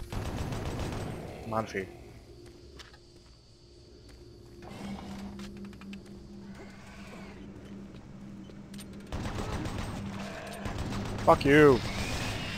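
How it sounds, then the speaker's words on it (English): Rapid mechanical gunfire from the chain gun in Doom 3 rattles through the scene, partly under a player's shouted speech, with bursts and clattering mechanisms between louder moments. "Almighty Chain Gun is more powerful than every single one of you."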